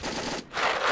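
Video game gunfire rattles in a quick automatic burst, dipping briefly and then resuming louder, close and dense, with no talk over it.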